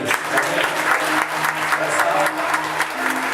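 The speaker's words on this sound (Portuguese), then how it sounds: "Pode aplaudir também." A church congregation claps together in a brief, lively burst of applause, dense and close, with a few voices murmuring underneath.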